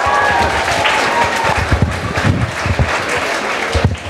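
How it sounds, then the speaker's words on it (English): A school audience at an inter-house act competition claps in an uneven, rhythmic pattern of separate loud claps mixed with scattered applause. "give your monkey clap"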